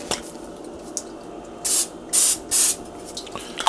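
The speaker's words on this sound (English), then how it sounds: "we're going to give it just a quick spritz" Cooking spray spritzed into an 8-inch omelet pan: three quick, close hissing bursts in a row, each under half a second, against a quiet kitchen background.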